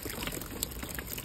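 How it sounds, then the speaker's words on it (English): Rainwater running off a roof makes a steady, soft wash of trickling and splashing water, continuous and fairly faint, with small drips breaking through now and then. "The water is coming from off of the roof"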